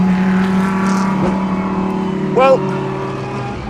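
A Lamborghini Huracan GT3 race car, with an aluminium and carbon chassis, is driven flat out on a track, giving a loud sustained engine note with a brief rising rev near the end, while someone speaks briefly over it.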